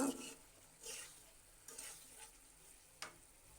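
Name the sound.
stirring curry in a pan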